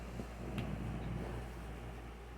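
An SMC 12-inch TP121A desk fan runs at a middle speed setting, giving a steady, even airy whoosh with a low motor hum throughout, close to the microphone and with no talking.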